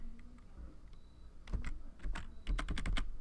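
Someone types a file name on a computer keyboard, a quiet run of sparse keystrokes that quickens into a rapid clatter of clicks heard up close.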